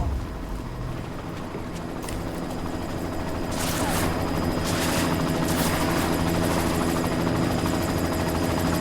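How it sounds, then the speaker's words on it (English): A helicopter in Deus Ex Mankind Divided roars with a loud, constant rotor drone that holds steady throughout, with no talking over it. "You've got to stop that chopper."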